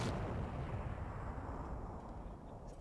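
A large explosion in the video game Resident Evil: Survivor: a loud, sustained, deep rumbling blast that fills the whole clip and slowly fades toward the end.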